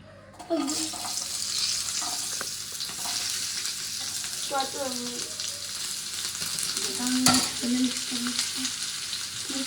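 Food frying in very hot oil on a gas stove turned down low, with a steady loud sizzle and occasional sharper spatters and pops throughout, no voices.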